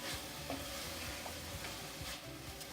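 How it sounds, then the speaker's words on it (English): A spoon stirs a hot coconut turnover filling with almond extract in a pot, producing soft repeated scraping and a faint sizzle, close and steady with no talk. "Give that a good stir."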